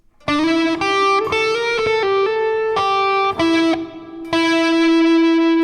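A distorted electric guitar plays a slow, sustained riff, each note ringing clearly before the next, with effects adding a smooth sheen.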